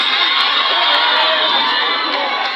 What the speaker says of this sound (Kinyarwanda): abanyeshuri bikomera amashyi